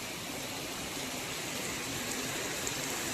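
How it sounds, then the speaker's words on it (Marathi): Heavy monsoon rain pours down at a petrol pump in the Konkan region, a steady dense hiss that holds evenly throughout with no voices. "आणि पाऊस जोरदार आहे."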